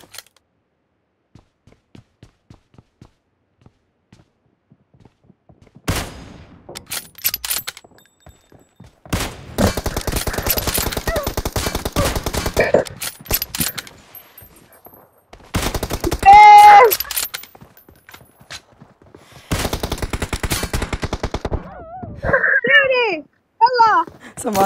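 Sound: gunfire from the M gun in a video game

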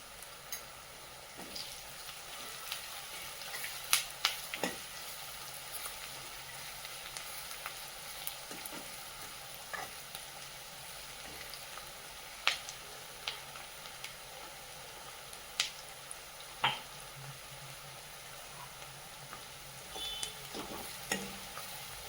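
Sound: onions frying in a pan with salt

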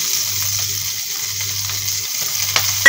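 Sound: stir-frying potato filling with spices in a pan

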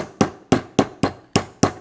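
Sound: hammer lightly tapping caps onto Rotax engine

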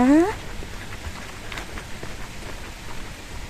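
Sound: heavy rain falling

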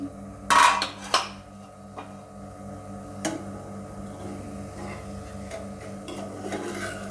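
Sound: taking the lid off a cooking pan

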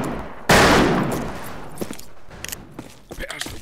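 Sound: revolver gunshots in the video game Fistful of Frags

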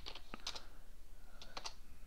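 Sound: typing on a computer keyboard

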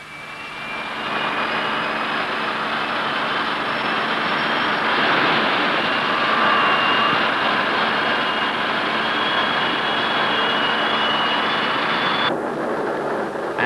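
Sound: Fairey Delta record-breaking jet aircraft flying

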